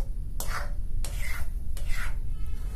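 Water chestnut flour halwa being stirred in a pan, a spoon scraping and rubbing through the thickening mixture in three slow, separate strokes, close and fairly quiet.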